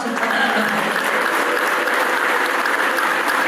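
Dense, continuous applause from a large crowd at a memorial gathering for a pastor's husband, holding at an even, loud level throughout without pause.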